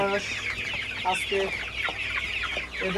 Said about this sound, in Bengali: এখানে হচ্ছে আমার প্রায় 100-এর উপরে মুরগি আছে